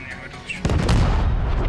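A tank cannon fires in the Squad video game, a sudden heavy boom that rises over a quieter background and then rolls on in a loud, sustained rumble of reverberation. Voices are heard faintly during the firing.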